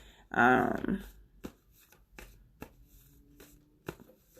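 Tarot cards are shuffled by hand in a quiet room, one short riffling burst followed by scattered soft taps and card handling, with a person talking nearby.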